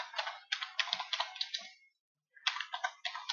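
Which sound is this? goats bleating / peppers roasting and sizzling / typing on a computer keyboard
typing on a computer keyboard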